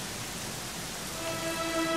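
Rain falls steadily in the video game Dragon Quest XI, a soft, even hiss with faint tonal music rising gently beneath it toward the end.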